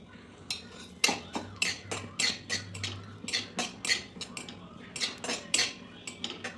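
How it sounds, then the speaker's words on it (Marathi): Raisins fry in ghee while a metal spoon stirs and scrapes the pan, giving repeated quiet clinks and scrapes in an uneven rhythm, up close, with no talking. "आहे त्याच तुपावर आणखी थोडं तूप घालून आपण चांगले फ्राय करून घ्यायचे."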